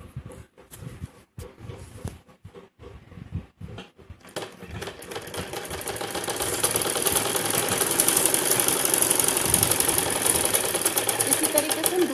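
A sewing machine runs a fitting seam on a half-inner fancy blouse, starting after a few seconds of talk and sharp handling clicks, then whirring continuously and steadily close by until the end.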